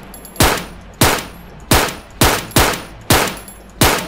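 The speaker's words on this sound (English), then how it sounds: "I'm gonna go in and blast him with a pistol" Pistol shots in the military video game Arma 3: seven loud, sharp single reports at a slightly uneven pace, each with a short decaying tail, with no talk over them.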